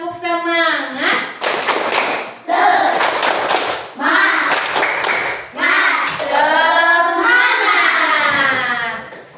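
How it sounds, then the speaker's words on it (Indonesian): A classroom of students claps and chants in a rhythmic group clapping routine, sharp clap bursts alternating with loud chanted voices throughout. "tepuk semangat."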